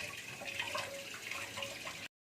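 Tap water runs steadily while fish are washed for a fish fry, a continuous close splashing stream that stops abruptly near the end.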